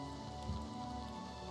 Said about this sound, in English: Must be raining? Yep.